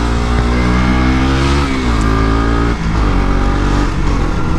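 A motorcycle fitted with an Akrapovic exhaust revs hard and accelerates on a road ride, its loud engine note rising and falling continuously and close up for the whole stretch, with no talking.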